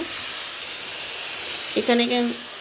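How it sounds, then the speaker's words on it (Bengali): Water poured into a hot pan of pointed gourd, potato and fish curry gives a steady, close hiss of steam throughout, with a brief voice-like tone briefly rising over it near the end. "এবার আমি জল দিয়ে দেব।"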